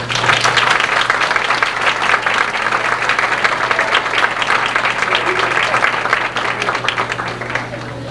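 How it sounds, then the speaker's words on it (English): An audience at a 1989 band banquet applauds a concert band, with steady, full clapping from many people that holds for several seconds over a constant low hum and tapers slightly at the end. "A round of applause to this group of people, please"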